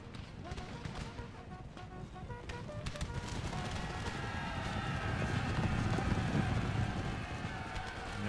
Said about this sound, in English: let's end this little fight on the side with a good old cavalry charge